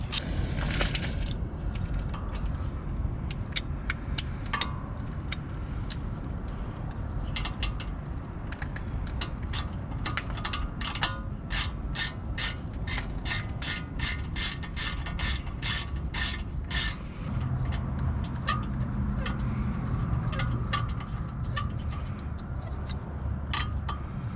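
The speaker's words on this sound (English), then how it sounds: "grab your ratchet. This should be somewhat tight. I've already broke them loose. We're just gonna back those out." Ratchet clicking steadily as bolts are backed out of the wheel bearing on a 2006 VW Passat, with bursts of rapid pawl clicks, close and fairly loud over a workshop background.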